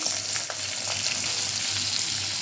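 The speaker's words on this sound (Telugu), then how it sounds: "ఒక ఫైవ్ మినిట్స్ ఫ్రై చేసుకోవాలి ఇవన్నీ మొత్తం ఫ్రై అవ్వాలి" Garlic, onion, green chillies and cumin fry in oil with a steady crackling sizzle, close and continuous, with faint scrapes of stirring.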